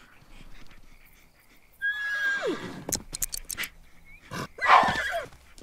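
A horse in The Sims 3 gives a loud, drawn-out whinny that falls in pitch, then snorts and clip-clops, with a second shrill whinny near the end over faint background game sound.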